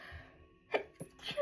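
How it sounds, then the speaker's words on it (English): A single person sneezes, with a short sharp burst after a quiet moment, followed by a couple of softer breathy sounds in a quiet room. "And I have to sneeze."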